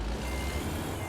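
Truck reversing beeps in American Truck Simulator, a steady rapid electronic beeping over a constant engine rumble while the heavy truck backs up.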